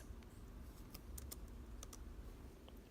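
Keys clatter on a computer keyboard in a quiet room, a few sharp clicks grouped unevenly over three seconds, close and faint, with no speech.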